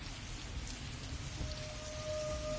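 Steady rain falling and pattering on surfaces, an even close wash of drops throughout with no voices.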